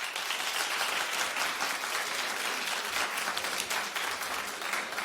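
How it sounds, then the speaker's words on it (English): A television talk show studio audience clapping in a dense, sustained burst of applause with little talk over it. "Clap if you would tell your girlfriend if you didn't like her boyfriend."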